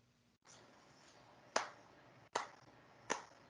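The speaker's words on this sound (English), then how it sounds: "That was genuine clapping, not sarcastic." Three sharp, separate hand claps ring out about a second apart over a quiet background, each short and crisp with a fast decay.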